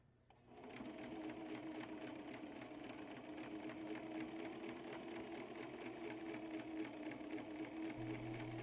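A sewing machine runs steadily while stitching a seam on a thrifted suit, with a fast even mechanical chatter close by that starts up after a brief pause and keeps going without talk.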